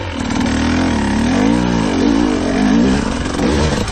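A KTM 500 EXC-F or GasGas EC 300 dirt bike revving hard as it climbs over rocks, its engine note rising and falling in loud close surges with no break.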